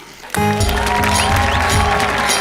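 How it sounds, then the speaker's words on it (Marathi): Loud, sustained applause breaks out from a studio audience at a Marathi comedy show's award presentation, filling the room without a pause right after a sudden onset. "जोरदार टाळ्या"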